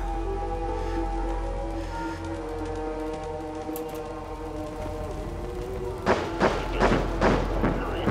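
Explosions in a video game, with a car blowing up near a bridge: a run of muffled, booming thuds comes late, over a steady background drone of game music.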